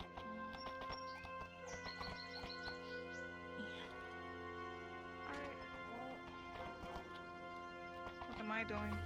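Horse hooves clip-clop steadily in a medieval roleplay town scene in VRChat, soft and somewhat distant, running under near-continuous talk from several voices.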